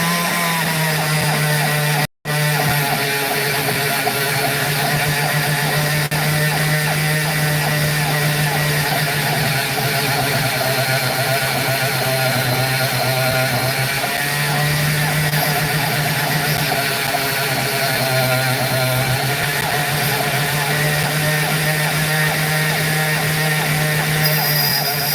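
A Dremel rotary tool with a blunted bit, used on opal, runs as a loud, steady, high whine close by for the whole stretch, cutting out once very briefly near the start, with speech alongside.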